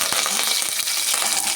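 Garlic, dried chillies and curry leaves frying in a pan, giving a steady close crackling sizzle with a few sharper pops, no voices.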